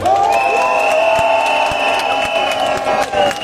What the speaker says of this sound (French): Applaudissez-vous très très fort.